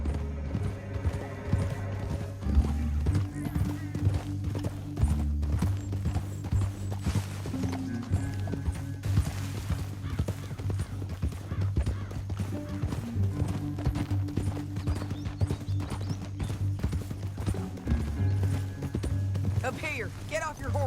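Horses gallop with rapid rhythmic hoofbeats in Red Dead Redemption 2, steady under a game soundtrack and spoken dialogue, with an occasional whinny.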